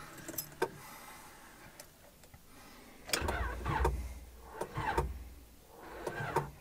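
A Honda Civic with a B20 VTEC engine cranks repeatedly without starting, giving several whirring starter bursts of about a second each, separated by quiet pauses, fairly faint and close by.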